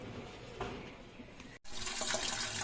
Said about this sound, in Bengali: ধনেপাতাগুলো এখন ধুয়ে নিচ্ছি।